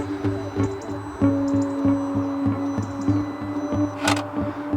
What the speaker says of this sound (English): the Valvetronic motor should make some noises as it's going through a learning process.